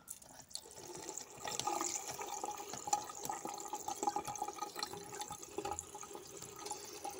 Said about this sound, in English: Then next, we turn the tap on.